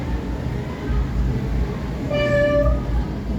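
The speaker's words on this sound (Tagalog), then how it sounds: "Habang naghihilang-hilang si Yawi, may biglang dumating na isang pusa." Cat meowing in a staged theatre performance: a single clear, drawn-out meow rises over a steady background murmur of room noise, fairly close and moderately loud.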